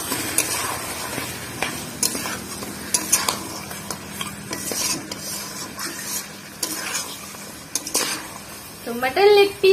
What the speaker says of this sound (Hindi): तो मटन लेग पीस को भी मसाला के साथ मैं अच्छे से भून लेती हूँ।